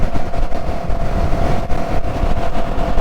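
A CFMOTO CLX 700 motorcycle cruising at 70 mph on a highway, a loud, steady engine drone mixed with heavy wind rush and no talking.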